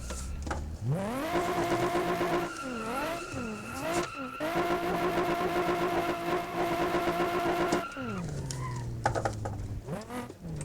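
A Nissan 350Z drifting in a racing video game through heavy traffic: a loud, continuous engine note rising and falling with revs, layered with sustained tire squeal and skidding throughout, easing off near the end.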